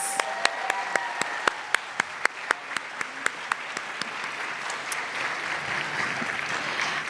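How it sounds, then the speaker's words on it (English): An audience at a Bharatanatyam arangetram graduation applauds, opening with a few sharp, evenly spaced claps that swell into a broad, steady round of clapping. "Let's give them another round of applause."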